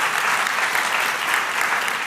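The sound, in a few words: audience applause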